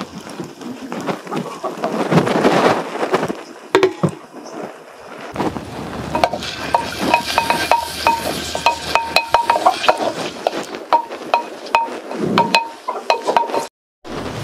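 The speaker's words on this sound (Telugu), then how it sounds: "ఇప్పుడు అది నూనె మరిగిన తర్వాత ముందు ఉల్లిపాయ వేస్తున్నా" Chopped onion dropped into hot oil for mutton kheema, a sudden loud hiss that settles into steady crackling and sizzling with sporadic pops, close by.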